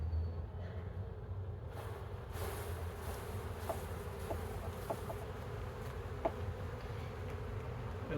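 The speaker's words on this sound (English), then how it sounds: "I'm going to shake these bees down." A faint, steady buzz of honeybees as they are shaken off a hive frame during a check for swarm cells, a continuous low insect hum with a few soft knocks, no talking.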